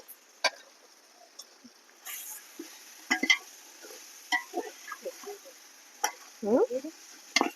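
A large pot of chicken dum biryani, made with a kilo each of chicken and rice, is stirred: scattered scraping knocks and soft sizzling clicks, close and irregular, over a quiet background.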